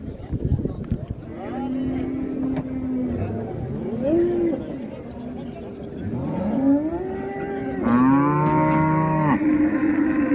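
Several long, drawn-out cow moos rise and fall one after another, close by, over a murmur of people talking at the Qarshi livestock market.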